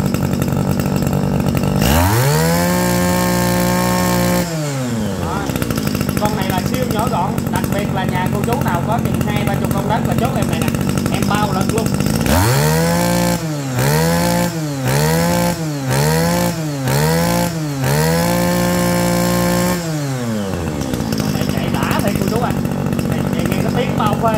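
A small two-stroke engine on a used Japanese grass trimmer runs loudly close by, idling then revving repeatedly in quick bursts, with a voice talking over the continuous buzz.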